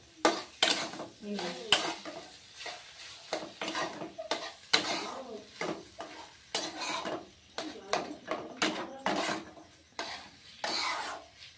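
A spoon mixes boiled cauliflower and peas into fried spices in a metal pan, giving close, rhythmic scraping and clinking strokes, one after another, with a faint sizzle underneath and no talking.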